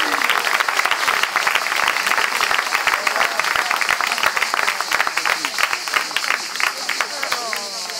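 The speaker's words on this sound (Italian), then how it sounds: "Tom, la nonna Rosetta, un applauso alla nonna Rosetta." Applause at an Italian award ceremony for a dog-loyalty prize, steady dense clapping from an audience throughout, with voices heard over and among the claps.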